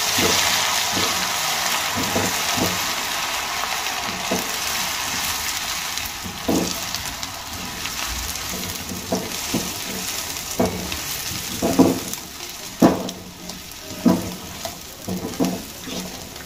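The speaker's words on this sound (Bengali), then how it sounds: "বেশ ভালো করে পেঁয়াজটা আমি ভেজে নেব।" Onion paste fries in hot oil for a Bengali rohu fish curry, a steady close sizzle with scattered pops and stirring scrapes that grow more frequent toward the end.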